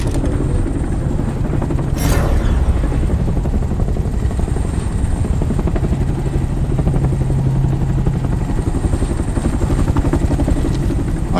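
A helicopter in the video game Homefront: The Revolution, a loud, steady rotor thump and engine drone filling the scene throughout, with one brief sharp burst near the start.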